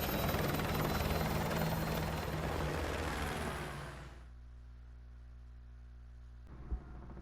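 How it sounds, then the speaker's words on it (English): A helicopter in the video game Call of Duty: Modern Warfare 2 roars loud and steady with a dense broadband rotor and engine drone, then fades to a low hum after about four seconds, ending with a brief soft thump. "I'll brief you on the chopper."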